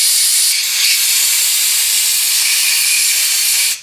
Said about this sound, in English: blow out all the lacquer thinner and hopefully all the oily residue that was for the assembly lube